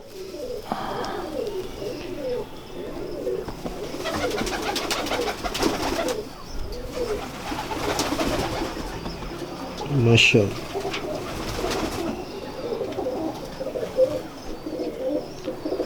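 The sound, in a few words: Sialkoti pigeons cooing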